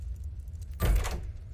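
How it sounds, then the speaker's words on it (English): A door creaks and swings open in the Roblox horror game Doors, a brief rushing whoosh lasting under half a second over a low in-game background hum. "open this door"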